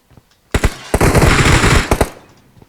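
Automatic gunfire rattles out of a video game match in a loud dense burst lasting about a second and a half, then two sharper single shots follow before it goes quiet.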